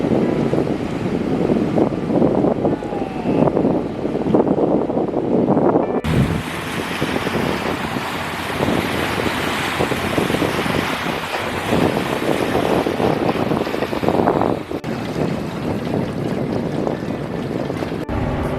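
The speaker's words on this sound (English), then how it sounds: "look at the waves that boat is making" Waves from a passing boat's wake wash in at Venice Beach, California, a steady, loud surge of water and surf heard under heavy wind buffeting on the microphone, with no talk.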